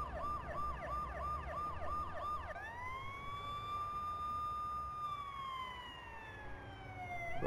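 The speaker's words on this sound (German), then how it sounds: "Krankenwagen!" An ambulance siren in the video game Watch Dogs wails, first in a fast rising-and-falling yelp, then switching to a long steady tone that slowly dips, with a faint rumble beneath.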